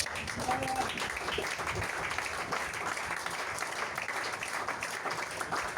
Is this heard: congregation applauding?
yes